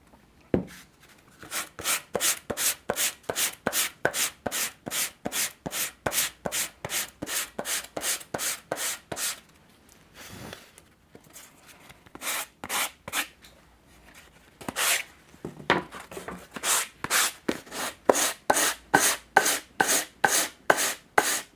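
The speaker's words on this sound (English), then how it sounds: "I'm going to keep on sanding" Wooden box being hand-sanded in long runs of rapid, steady back-and-forth strokes, close and fairly loud, with two brief pauses between bursts.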